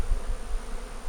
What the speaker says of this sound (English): They have a beautiful day to be bees. That's them.